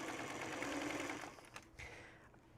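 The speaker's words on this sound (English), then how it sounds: "I'm just going to sew all the way down this long edge" A sewing machine running a long seam down a fabric edge, a fast, quiet whirring stitch that slows and breaks off partway, followed by a few soft handling clicks.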